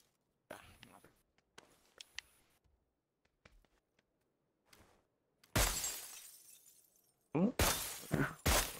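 Glass windows shatter under gunfire in PUBG on Xbox, two loud crashing bursts of breaking glass following scattered clicks and faint sounds of players moving.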